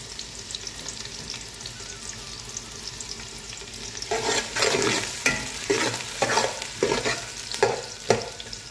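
Mixed vegetables for vegetable biryani are stir-fried in a pan: a steady low sizzle that grows louder partway through, with repeated scraping and stirring bursts of spatula against the pan and no talk.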